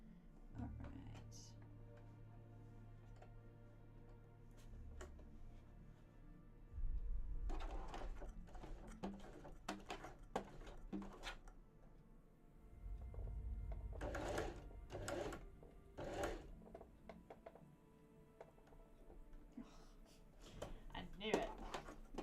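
A sewing machine stitches a cosplay top in short, uneven bursts of whirring, with several quick runs later on, while a person talks and music plays in between.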